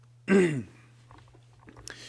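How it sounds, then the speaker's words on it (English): A single sharp, close throat clearing bursts out, then fades into faint mouth and breathing noises and a small click. "sorry that I keep clearing my throat"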